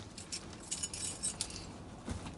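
A set of keys jangles and clinks in short bursts at close range, the metallic rattles coming in quick clusters over a quiet room background with no talking.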